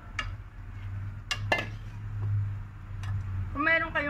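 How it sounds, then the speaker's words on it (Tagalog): Cabbage soup gets stirred in a cooking pot, with a few sharp metallic clinks and scrapes of a utensil against the pot over a low steady hum, and a voice starts talking at the end. "Haluin natin."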